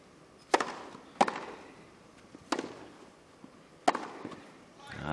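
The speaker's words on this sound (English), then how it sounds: "That's a big booming strike already from Anisimova." A tennis match at Wimbledon, where players strike the ball hard with sharp, echoing racket pops that come four times at uneven intervals, each followed by a brief reverberation, with faint crowd murmur between shots.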